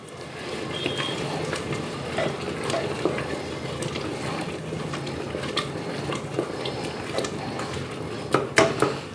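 Maize flour roasts into sarson ka saag in a pan over a gas flame, a soft continuous sizzle with scraping stirring sounds and a few louder clinks near the end, no talking.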